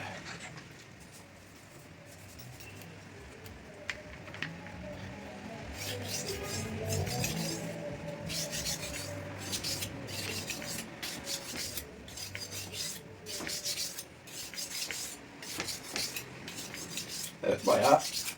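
A knife blade is drawn across an oil stone for coarse sharpening, producing repeated close rasping strokes in a steady back-and-forth rhythm, fairly quiet, with occasional light metallic clinks.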